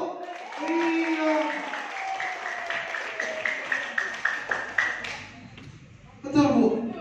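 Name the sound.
audience applause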